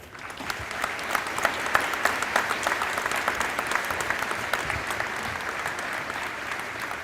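Sustained audience applause at a bridge dedication ceremony honoring Ike Skelton, welcoming a state representative to the stage; steady, dense clapping from a sizable crowd throughout, without talk.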